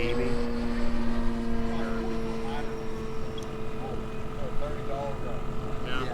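A Sebart Extra SX 61 inch 6s electric RC plane flies at a little under half throttle, a steady motor-and-propeller drone at moderate distance, with someone talking over it.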